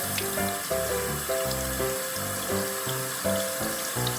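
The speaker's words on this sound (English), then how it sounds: "Oh, first I rinse around my brush." Tap water runs steadily into a bathroom sink while a toothbrush is rinsed under the stream, a continuous close splashing that is loud and alone.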